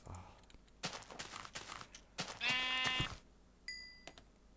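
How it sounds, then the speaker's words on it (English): Sheep bleating in Minecraft, one clear wavering bleat in the middle among footstep and block-hitting thuds, followed by a short ringing game tone. "Was that the sheep I attacked earlier or something?"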